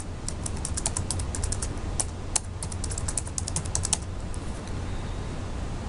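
Stat points are typed in on a computer keyboard, quick irregular bursts of light key clicks over a steady background hum, with no talking.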